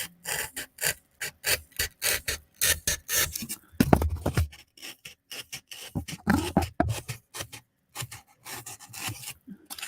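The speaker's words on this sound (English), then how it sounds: "I'm just going to cut it with this hot knife once again." A hot knife cuts through craft material for Easter home decor, giving a long run of rapid, close rasping and scraping strokes with short pauses between them and no clear speech.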